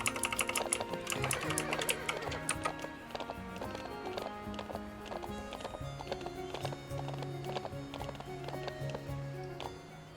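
Quick, irregular hoof clops patter steadily, like a horse walking or trotting, layered over soft ambient tones, with no voices, in the video game The Ranch Of Rivershine.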